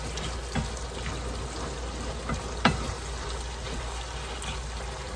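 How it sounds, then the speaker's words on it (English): Skillet taco filling simmering on the lowest stove setting, a soft continuous bubbling sizzle with a few small pops, close and steady with no talking. "And this is just on a simmer. I got it on the lowest setting on the stove."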